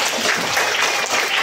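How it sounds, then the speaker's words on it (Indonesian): Schoolchildren clapping during a police school visit in Indonesia, a brief dense burst of applause from a group, fairly loud and close. "Tepuk tangan."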